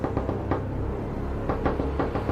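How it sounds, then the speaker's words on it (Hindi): Several people knock on a hotel room door in repeated bursts of dull thuds, heard under dense, steady background sound. "4-5 लोगों ने उनके कमरे का दरवाजा खटखटाना शुरू कर दिया।"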